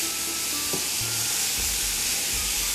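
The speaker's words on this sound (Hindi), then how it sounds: "आप इसमें सारी पालक डाल दें, और ये है एक पूरी गड्डी। इसको आप अच्छी तरह फ्राई करें।" A whole bunch of spinach fries in a pan with a dense, continuous close sizzle and hiss, plus a few soft clunks of stirring, and no talking.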